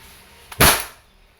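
A Umarex Glock 17 Gen 5 pellet airgun fires one sharp, loud shot, preceded by a brief click and followed by a short fading tail, with quiet before and after.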